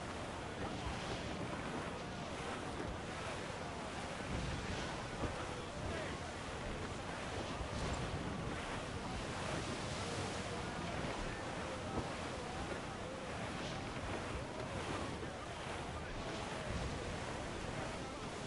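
A stormy squall at sea in Assassin's Creed Black Flag, with loud, constant roaring wind and crashing waves around a sailing ship, a dense wash of noise that never lets up.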